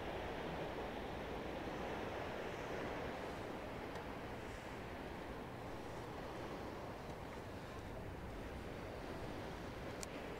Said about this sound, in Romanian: Soare, liniște și zgomotul valurilor.